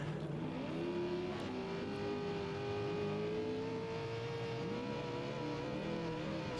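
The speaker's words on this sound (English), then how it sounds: "You can hear the V8" A V8 race vehicle engine at the Baja 500 off-road race roars steadily and close, its pitch rising and falling as it revs through gears, with a continuous loud drone and no talk.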